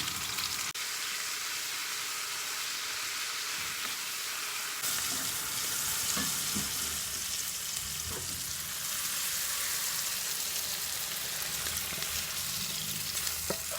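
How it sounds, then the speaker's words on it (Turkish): Green peppers, thawed from the freezer, fry in a pan for chicken fajitas, giving a steady, dense sizzle that continues throughout with occasional faint stirring clicks and no talking. "Önce biberlerimi pişireceğim."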